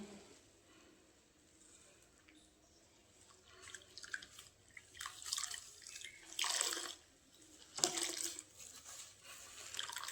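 A soaked heavy bed blanket is wrung out by hand at home, with water gushing and dripping in irregular splashy bursts that grow louder toward the end.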